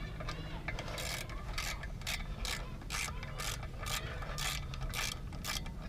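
Ratchet wrench cranking down clutch bolts on a Honda H22A engine's stage 3 clutch, a run of quick clicking ratchet bursts in steady rhythm, close by over a low background hum.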